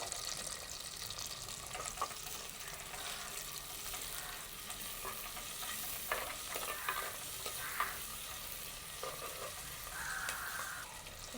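Sliced onions with green chillies fry in hot oil in a pan for prawn biryani, giving a steady, even sizzle with occasional stirring scrapes and clinks.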